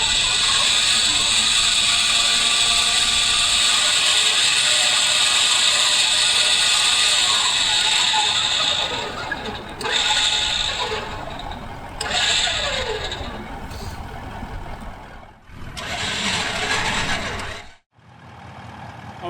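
An electric winch on an off-road vehicle winds in its cable with a loud, steady mechanical whine and grinding, pausing and restarting several times before stopping.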